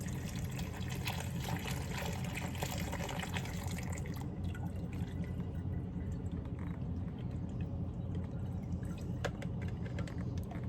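Water pours in a long continuous stream into the tank of a steam cleaner, a steady loud trickling gush that holds for about ten seconds.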